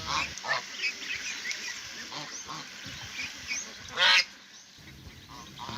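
Several Campbell ducks, about 45 days old, call with scattered quacks and honking on a farm over faint background noise, one louder call standing out near the end.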